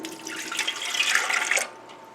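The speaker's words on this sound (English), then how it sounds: "So we're going to add 1 cup of water" A cup of water poured into a bread machine pan while making rye bread, a bright splashing gurgle that builds and then stops abruptly near the end.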